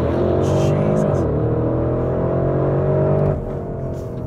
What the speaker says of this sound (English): And then I'll just flatten the throttle and we'll see what happens.